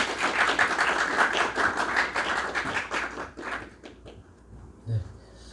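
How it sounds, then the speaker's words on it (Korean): A room of pastors at a church lecture claps together in quick, uneven bursts that thin out and fade after about four seconds, followed by a single soft thump. "목사님들 박수 한번 치시죠."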